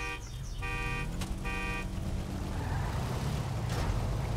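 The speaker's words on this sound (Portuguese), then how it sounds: "Três buzinas." Three car horn honks in GTA 5 roleplay, the first short and two longer steady blasts, sounding loud over constant engine and road noise.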